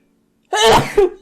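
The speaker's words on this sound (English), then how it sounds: "I have a really loud sneeze" One loud, close sneeze erupts abruptly out of silence, with a drawn-out burst and a second sharp catch at the end.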